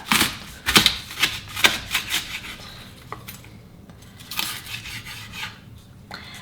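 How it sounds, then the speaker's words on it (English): A kitchen knife cuts through a leek on a cutting board in a series of crisp rasping strokes that come quickly at first, then sparser scrapes and rubs at a quiet, close level. "we're going to slice this down the centre"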